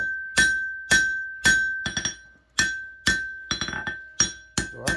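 Hot knife steel is hammered on an anvil, giving a dozen bright, ringing metallic strikes at close range in an irregular rhythm, with some quick bouncing rebound taps between the heavier blows.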